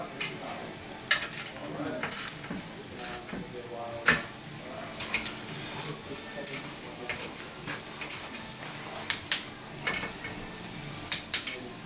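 A ratchet tightens crankshaft main bearing bolts in a diagonal pattern during a crank and main bearing fit, giving repeated short clicking bursts at a close, fairly quiet level.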